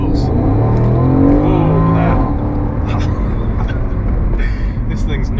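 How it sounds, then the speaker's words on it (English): Porsche Panamera with its exhaust valves opened by a button, the engine revving loudly and continuously with a deep roar that swells and eases, while a voice calls out over it. "it's also got this little button here which makes it sound better. It opens the valves of the exhaust."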